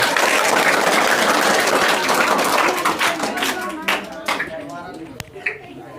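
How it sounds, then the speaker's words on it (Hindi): Loud applause from an audience at a school Independence Day celebration greets a performer, dense clapping at first and then thinning into scattered claps as it fades. "और भैया जोरदार तालियों के साथ स्वागत होना चाहिए।"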